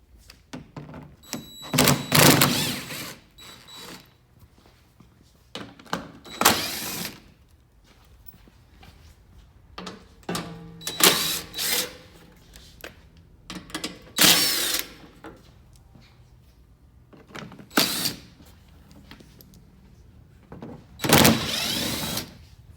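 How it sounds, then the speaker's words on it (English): A power socket tool on a 10mm socket zips loose the fender screws of a third-generation Toyota Tacoma in several short, loud bursts, with quiet pauses and clunks between them and no talk. "Then just use your 10mm socket to remove the rest of the screws."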